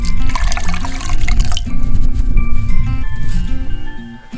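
Cold water poured into a pot for Korean samgyetang chicken soup, a steady splashing, gurgling stream that stays loud and close throughout, with a faint ringing tone under it.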